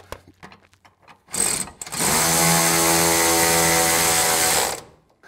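Power tool tightening bolts on a 1955 Buick Special under restoration after sitting abandoned since 1968, a few faint clicks then one loud sustained whirring run of about three seconds, close by, ending abruptly.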